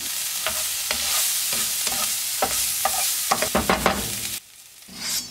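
Garlic and ginger sizzling in a hot pan for a curry sauce, a steady broadband fry with repeated stirring scrapes and clicks, dropping quieter near the end before the sizzle swells again.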